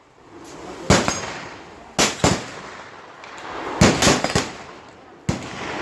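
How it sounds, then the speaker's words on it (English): A .45 Long Colt lever-action rifle fires at a silhouette shooting match. About six loud, sharp reports ring out at uneven intervals, some in quick pairs, against quiet outdoor background. "But this is him shooting his 45 long Colt."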